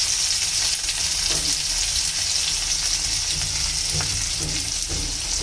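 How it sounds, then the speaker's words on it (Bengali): Garlic, crushed green chili and black cumin fry in hot oil with a continuous close sizzle, and a few soft stirring scrapes break in now and then. "এই যে রসুনটা ভাজতে ভাজতে একটু সেন্ট বেরিয়ে যাবে রসুনের"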